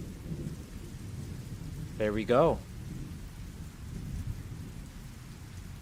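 Game sound effect of steady rain with low thunder rumble runs throughout at moderate level, with someone speaking briefly over it midway.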